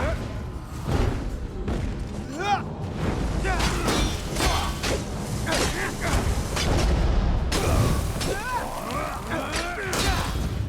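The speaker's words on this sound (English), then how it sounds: "Nice little explosion there." A magical explosion with blue fire in Elder Scrolls Online gameplay, heard as a loud burst of booming, shattering crashes amid dense game effects and ongoing combat sounds, with a voice talking over it.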